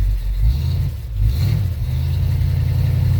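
A 1969 Ford truck engine runs steadily after a cold start in 20-degree weather, a loud, low, continuous rumble up close with a brief dip around one second before settling back into an even drone.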